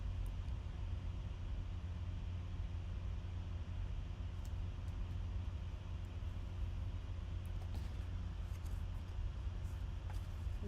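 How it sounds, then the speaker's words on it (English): A laptop cooling fan hums in a steady low whir with faint broadband hiss, constant and fairly quiet, with no voices. "so I apologize for the fan noise."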